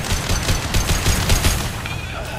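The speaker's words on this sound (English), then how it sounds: "it's so nice just to shoot people with this gun" Gunfire in the game Mass Effect 2 during a battle for a refinery: a loud, rapid run of close shots pulses steadily for a couple of seconds.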